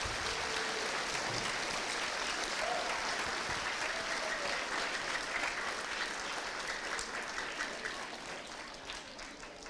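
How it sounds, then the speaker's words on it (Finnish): An audience applauds the men's football team at a Finnish club's season-ending celebration, a steady dense wash of clapping that holds loud throughout and tapers slightly near the end. "Annetaanko miehille aplodit?"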